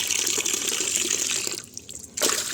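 Lots of water pours from a tap over eggshells being washed for a rooftop garden, a steady rushing gush that briefly drops away and then returns.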